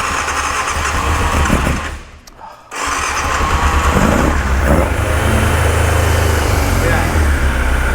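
A 1989 Yamaha FZR600 motorcycle engine runs loud and close, drops out briefly, then restarts and holds a steady, rough idle with slight revving; voices talk over it.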